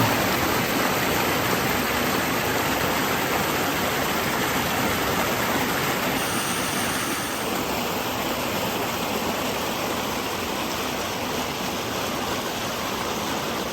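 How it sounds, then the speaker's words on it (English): Steady rushing water pours and churns continuously through a culvert, a dense broadband roar up close with no pauses. "It is flowing down this way more now."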